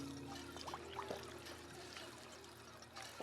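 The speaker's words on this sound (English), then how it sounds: "I'm hearing the drinking noise this time." Water trickling and pouring from a water pump as a character drinks in the video game Fallout 4, with a steady faint splashing stream under a low background hum and brief tonal blips.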